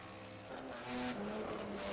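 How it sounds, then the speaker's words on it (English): Historic 1964 sportscar engines in a racing video game at Longford whine and rise in pitch with a short tire squeal, fairly loud and continuous, with no one talking. "Maybe the cars are very loud."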